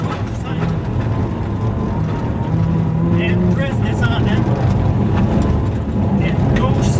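Onboard a rally car driven by someone at the 2005 Rallye Portneuf, with a loud, steady engine roar and road rumble throughout, with voices faintly present under the noise.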